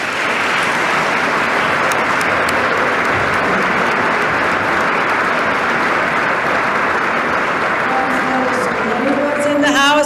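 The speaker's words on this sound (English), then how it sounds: "Let's give a round of applause to the cabinet." Loud, sustained applause fills the legislative chamber during the New York governor's 2023 State of the State address, dense and even for ten seconds, with voices and a few calls rising near the end.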